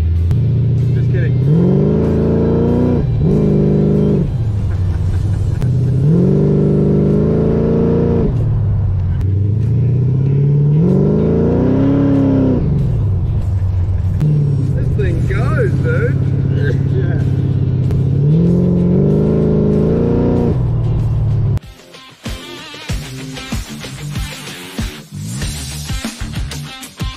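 A supercharged 347 Cobra's engine rumbles and rises in pitch through repeated revving accelerations, loud and close, for most of the stretch before cutting off into quieter background noise.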